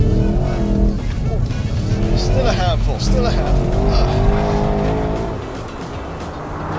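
Porsche Cayenne GTS with all-wheel drive driven hard, engine revving loudly while the tires chirp and squeal through a slide, with someone talking over the car throughout.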